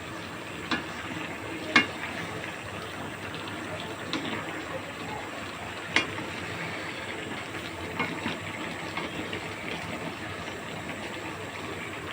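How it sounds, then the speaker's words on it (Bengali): Vegetables with dissolved cornflour being stirred in a pan for a Chinese-style dish, giving a soft continuous sizzle and scraping with a few sharper clicks of the utensil against the pan. "কর্নফ্লাওয়ারটা গুলে রেখেছিলাম 3 টেবিল চামচ। এখন আমি এটাকে নেড়ে চেড়ে দিচ্ছি।"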